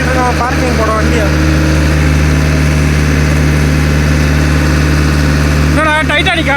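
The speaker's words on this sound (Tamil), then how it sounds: "ஏத்தத்துல ஏறுது வண்டி" A vehicle climbs a slope toward a parking area. Its engine gives a loud, steady, close low rumble with slight revving, and people chat over it.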